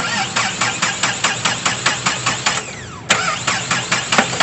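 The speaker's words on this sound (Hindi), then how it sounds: "तो देखिए, अब इसका सेल्फ हम लोग लगवा रहे हैं और देखिए इंजन की हालत क्या है।" A Mahindra Xylo diesel engine cranks on its self starter with a steady, fast rhythmic churn that falters at about three seconds and then picks back up, loud and close, with no talk over it.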